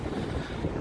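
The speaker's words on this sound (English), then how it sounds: "you can hear the wind obviously" Wind blows outdoors, buffeting the microphone in a steady low roar over a brief, fairly loud stretch with no talking.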